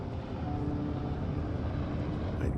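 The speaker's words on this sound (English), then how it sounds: "There's the helicopter." Helicopter in the video game Firewatch, a steady rotor and engine drone that fills the whole stretch at an even, fairly loud level, with no talking over it.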